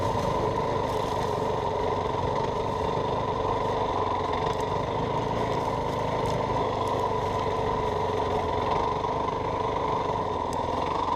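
New dirt bike climbing a hill through sage grass, its engine a steady, fairly close droning buzz that holds at a constant pitch and loudness the whole time, with no voices.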